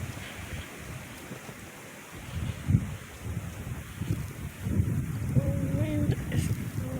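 Blustery wind roaring through a snow storm in Worcester, Massachusetts, a rough, gusting rush that swells louder toward the end, with buffeting on the microphone.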